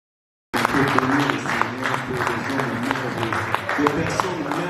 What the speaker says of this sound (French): des acclamations.